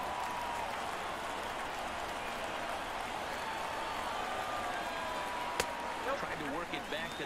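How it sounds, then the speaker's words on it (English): Crowd noise fills a baseball stadium at a Phillies–Yankees game as a broad, sustained roar with a sharp crack near the end and a commentator talking over it. "You keep cheering, crowd."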